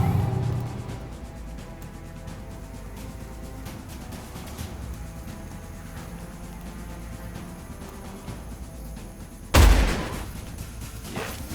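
Shotguns firing in the video game Age of Wonders Planetfall, faint scattered battle shots under a low game backdrop, then a single loud blast near the end.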